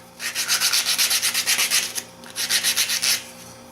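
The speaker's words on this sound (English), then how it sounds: "sanding block" Rhythmic back-and-forth sanding of wood, a scratchy rasp in quick regular strokes, pausing briefly before a second burst.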